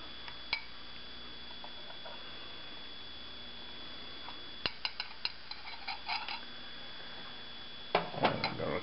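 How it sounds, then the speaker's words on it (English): A spoon scrapes and clinks as cooked beans from a backpacking meal go into a bowl, giving a few faint, scattered taps and knocks over a quiet room hiss. "So I'm going to put some of it in a bowl here."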